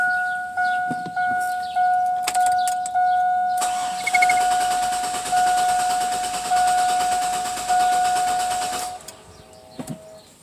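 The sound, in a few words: car engine starting and running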